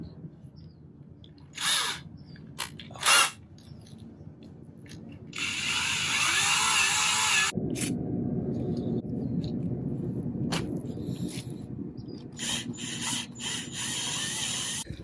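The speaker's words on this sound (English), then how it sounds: "this drill bit isn't working either" A power drill whirs and grinds against metal in a long sustained burst, preceded by a few short clicks and knocks, fairly close, while fitting a narrowed adjustable beam on a 1969 VW Bay Window Bus.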